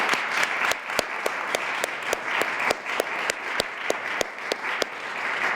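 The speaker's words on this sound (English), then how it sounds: "let's give Mayor Ryan a big round of applause" Applause at a Springfield library foundation event, with one prominent nearby clapper striking a slow, regular beat of loud claps over a softer, fainter crowd clapping behind.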